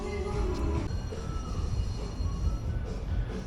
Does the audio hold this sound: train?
yes